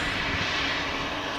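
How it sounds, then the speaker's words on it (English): A Ryanair Boeing 737-800 jet just touched down at Manchester Airport, a steady broad roar of engine and rushing air held at even loudness throughout the brief moment, with no voices over it. "there comes a Ryanair 737-800, just touched down as well behind it"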